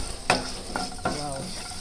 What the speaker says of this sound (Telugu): కాజు పచ్చిమిర్చి మంచిగా వేగినాయి కదా.